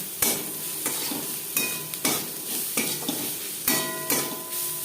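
Sliced onions fry and sizzle in a pan for a chichinga bhaja dish, with a steady hiss broken by several scraping spatula stirs at a slow, regular pace, close and moderately loud, no voices.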